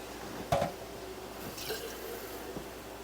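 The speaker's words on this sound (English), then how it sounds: "I added a little water into the jar to kind of thin it down some" Water drips and trickles into a glass Prego spaghetti sauce jar in a kitchen, a few soft splashes and plinks spaced apart over faint background hum.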